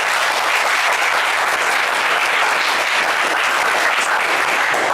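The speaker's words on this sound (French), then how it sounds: "Il mérite plus d'applaudissements que cela." Dense, steady audience applause fills a game show studio for a finalist, loud and continuous throughout without any voices.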